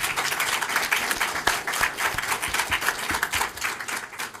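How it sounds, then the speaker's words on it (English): People at a school board meeting clap together, a dense, moderately loud round of applause with a few sharper individual claps, holding steady without speech. "as you're clapping"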